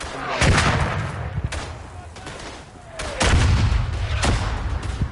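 Bombs and artillery explode in a World War I video game battle, a series of heavy booming blasts with sharp cracks, several loud impacts spaced unevenly over a constant rumble of gunfire.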